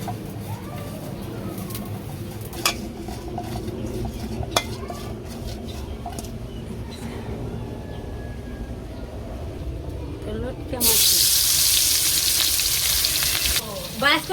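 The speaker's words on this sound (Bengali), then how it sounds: "এখন রান্না করবো শুক্তি মাছ দিয়ে একটু সরষে" Dried fish (shutki) with mustard cooking in a pan in a village kitchen, a steady frying sizzle with utensil clinks and stirring, turning to a loud hiss near the end, while pigeons coo nearby and a voice speaks faintly.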